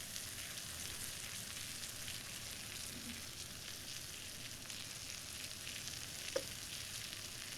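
Steak sizzling in butter on a hot griddle, a steady broadband hiss of frying that holds evenly throughout with no talk, and one brief sharper pop near the end.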